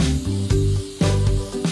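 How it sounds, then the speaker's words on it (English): A MistKing Advanced automatic misting system sprays into a terrarium with a loud, steady hiss, broken by rhythmic pulses roughly every half second as the pump cycles. "We've got the MistKing Advanced system. It'll go on automatically throughout the day."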